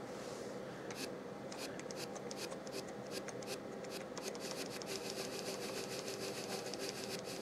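A steady synthesized whir from a MIDI keyboard with a fluttering, rapidly chopping texture runs continuously, imitating helicopter rotor noise without any other sounds.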